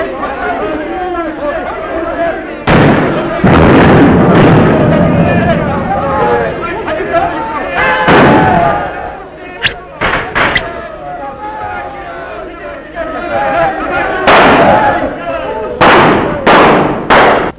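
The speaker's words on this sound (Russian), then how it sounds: "Гранаты!" Grenade explosions and bursts of gunfire from a 1937 war film, sharp loud blasts breaking in at intervals over shouting and excited voices, with a cluster of rapid bangs near the end.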